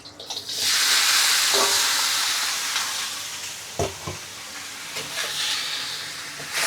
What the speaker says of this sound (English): Quick stir fry the lamb.